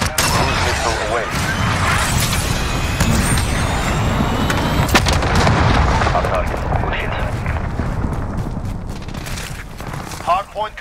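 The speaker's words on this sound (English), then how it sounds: "Cruise missile away." Cruise missile strike during a Hardpoint match in Call of Duty Modern Warfare, a dense, loud sustained roar of rumbling blasts and gunfire-like cracks for about ten seconds, ending with a few sharp bursts.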